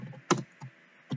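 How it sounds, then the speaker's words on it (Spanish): Four quick keystrokes on a computer keyboard, close and crisp, with the second one loudest and short gaps of quiet between them. "Voy a escribir la palabra John"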